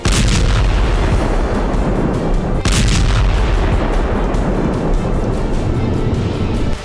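A loud, continuous roar of blasts and rumbling booms from a missile strike in Kyiv fills the whole stretch, with a sharp crack partway through, dense and overwhelming.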